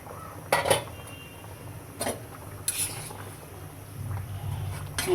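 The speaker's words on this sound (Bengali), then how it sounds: "ঢাকনাটা খুলে দেখি পেঁপে সিদ্ধ হয়েছে কিনা" A metal lid clanks off a pot of boiling papaya being cooked for a mashed papaya bhorta, with a few sharp clatters over a low, steady bubbling hiss.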